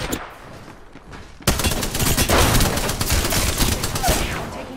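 Dense gunfire in the Apex Legends battle royale shooter, a burst of rapid overlapping shots that breaks in loud and close and keeps going, with some faint game noise before it.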